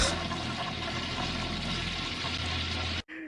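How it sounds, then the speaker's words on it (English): A toilet flush used as wrestling entrance music, loud and close, with a continuous rush of swirling water that runs for about three seconds, then cuts off abruptly. "entrance music that consisted primarily of bathroom sound effects"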